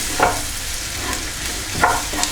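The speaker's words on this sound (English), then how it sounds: "We now want to add in the flour. And we just cook this through for about a minute." Flour stirred and cooked in a hot pan for a steak gravy with caramelised onion and mushroom, a steady loud sizzle with a couple of scraping stirs, close up, no voices.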